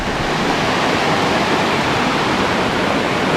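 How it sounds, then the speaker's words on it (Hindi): Rushing water thunders steadily at Mandwa waterfall in Bastar, Chhattisgarh, a dense, unbroken roar heard close and loud throughout, with no voices. "और यहाँ पर है वाटरफॉल। और पानी तो भाई बहुत तेज़ हो गया है"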